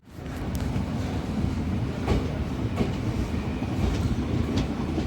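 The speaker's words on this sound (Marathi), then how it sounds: "आपली गाडी आता हातकडंगले रेल्वे स्टेशनवरून डिपार्चर होत आहे" A DEMU train pulls out of Hatkanangale railway station with a steady, close rumble from inside the carriage and faint rhythmic wheel clicks, with no talking.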